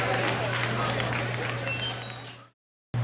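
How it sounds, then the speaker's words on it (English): Applause from the audience at a junior livestock show, a steady broadband wash of clapping that runs for a couple of seconds, then stops abruptly into a brief silence, with a sustained low hum underneath. "Another big round of applause for Maisey, Thompson, and Progressive."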